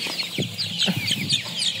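Farm chickens cluck repeatedly and close by in a quick, uneven series, with soft pecking taps mixed in.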